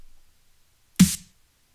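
After a faint tail of sound, a single sharp dubstep snare drum hit with harsh EQ cracks out, bright and harsh, decaying quickly into silence.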